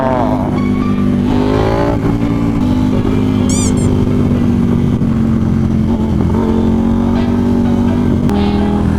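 Motorcycle engine droning loudly and steadily while riding on a touring trip, with pitch rising and falling through throttle changes and heavy wind rush, while a rider's voice sounds intermittently over it.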